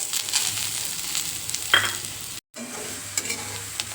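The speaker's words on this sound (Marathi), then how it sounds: "हे खोबरं काय आपलं लगेचच भाजलं जातं" Grated dry coconut roasts in a pan for Kolhapuri misal while a spoon stirs it, giving a soft dry sizzle with scraping strokes and brief clinks, interrupted by a short silent cut midway.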